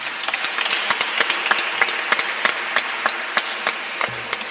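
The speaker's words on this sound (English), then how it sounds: "I want to give Doc a round of applause for that he taught me" An audience applauds a speaker at a Saturday Free School fifth anniversary gathering, with distinct individual claps standing out over a moderate, continuous round of clapping.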